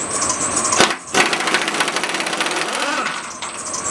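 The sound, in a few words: pulling bolts out of a Western snow plow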